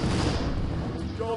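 The Mage hero power fires a shot in a Hearthstone match, a dense, loud burst of blasting game effect noise that fades out over a second or so, with no voices.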